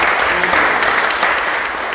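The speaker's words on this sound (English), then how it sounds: "Would everyone please give them a round of applause for what they do for our community." A crowd at a community Unity Week gathering claps for a local group, a close, steady wash of applause with no talk over it.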